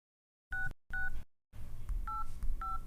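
A telephone is dialed: two short keypad tones ring out in near silence, followed by two more tones that sound under a low background hum.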